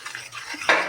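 A spoon stirring a mixture in a pot during home cooking, a brief scraping swirl with a light metallic clink at the end, close and fairly quiet.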